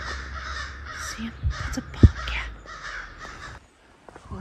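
Crows cawing harshly while mobbing a bobcat on a forested trail in Maryland, several rough calls overlapping at moderate distance before they fade into near silence.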